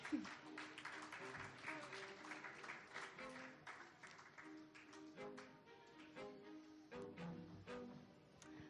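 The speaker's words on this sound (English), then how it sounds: "we'll do a round of applause as well." Applause from a small crowd, steady clapping with some voices and music underneath, moderately loud throughout.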